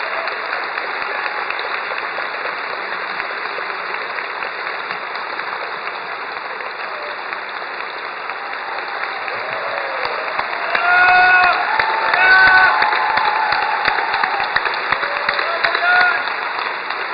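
An audience applauds at a choral festival finale concert, a steady wash of clapping that swells louder near the end, with a voice speaking over it.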